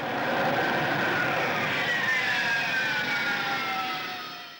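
A Harrier GR5 jet flies by with a steady, loud broadband roar and faint whining tones that slowly drift, fading slightly at the end.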